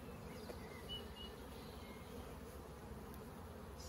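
Honey bees buzz around an open hive with brood boxes, honey stores and a queen excluder, giving a steady, faint hum that holds without a break.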